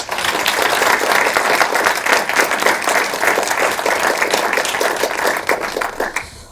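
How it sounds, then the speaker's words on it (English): An audience at an academic talk event gives a loud, sustained round of applause for the speakers, dense clapping throughout before it trails off at the end. "I would like to ask you for one more round of applause for our tremendous speakers, please."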